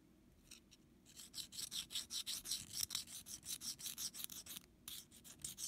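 A hardness test file scraped across a hardened steel file-made knife blade, a quick run of about twenty rhythmic rasping strokes, close and quiet, with no talk.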